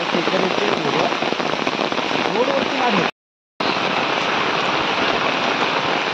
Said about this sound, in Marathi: पाऊस वगैरे खूप आहे